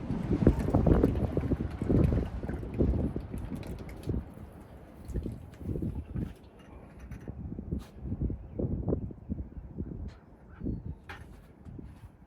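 Gusty wind buffets a boat on open water, a steady low rumble of microphone wind noise rising and falling throughout, with no talking.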